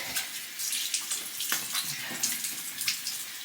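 Cold tap water runs steadily into a bathroom sink while a face is rinsed, a continuous close splashing hiss with small uneven surges.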